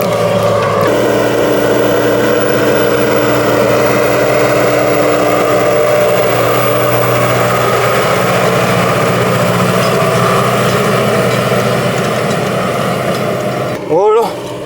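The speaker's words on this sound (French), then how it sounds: "le tracteur, avec la poussée du tracteur, ça pousse la terre et ça retourne, ça fait des sillons dans le sol" Tractor pulling a plough through a field, turning soil into furrows: a steady, loud engine drone runs throughout with little variation, ending in a brief louder clatter near the close.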